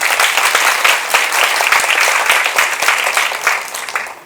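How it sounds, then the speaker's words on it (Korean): A seated audience gives a big round of applause at the opening ceremony of a Korean education forum: steady, fairly loud crowd clapping that holds evenly for about four seconds with no voices over it. "다시 한번 큰 박수 부탁드립니다"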